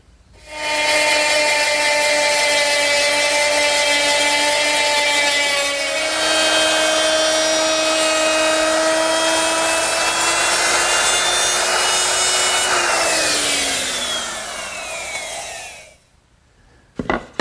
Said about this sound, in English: now I'm going to mill the corresponding edge of the leaf with a 3/8" cove bit